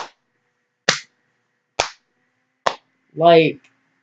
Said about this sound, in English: It's called clapping with one hand, but I'm flinging them.